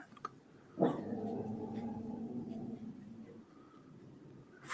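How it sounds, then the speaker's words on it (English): A dog whimpers and growls low and close, a sustained moaning vocal lasting a couple of seconds, with no talk over it. "Ferocious dog."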